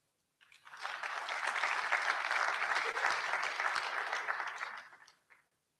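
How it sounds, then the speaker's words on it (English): At an education leadership event, a burst of applause for a CEO from an audience, rising quickly, holding steady for several seconds, then fading out; no talking. "Can we give the CEO another round of applause?"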